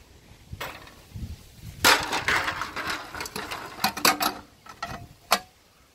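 On a Toro machine, the recoil pull cord winds back in with a series of close, irregular clicks, rattles and scraping mechanical noises, no voices.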